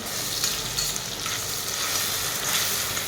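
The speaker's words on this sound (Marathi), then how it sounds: "मिश्रण छान तेलामध्ये परतून घ्यायचं आहे" Ground onion and tomato paste fries in hot oil for a rajma curry, giving a loud, dense, steady sizzle up close with no voices.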